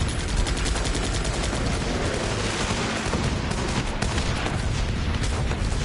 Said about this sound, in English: That mortar right up there, that's still working on the back line